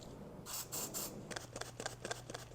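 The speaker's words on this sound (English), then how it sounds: "Don't forget to lubricate the trunk gasket or the trunk seal. It also deserves some spray." Aerosol lubricant hisses in a few short bursts onto the rubber trunk seal of a BMW E46, followed by light rubbing and handling noises close by.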